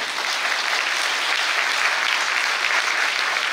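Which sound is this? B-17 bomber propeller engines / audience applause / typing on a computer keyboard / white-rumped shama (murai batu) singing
audience applause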